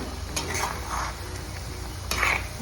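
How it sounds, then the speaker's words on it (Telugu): Ginger garlic paste frying in a pan while being stirred, a steady close sizzle with scraping clinks of a utensil against the pan, no talk. "అల్లం వెల్లుల్లి పేస్ట్ మొత్తం కొంచెం వేగనిద్దామండి బాగా"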